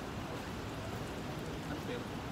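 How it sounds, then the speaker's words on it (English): Steady rain hissing across a surface, a dense even wash of noise with no pauses, moderately loud and close. "Okay, it's raining again."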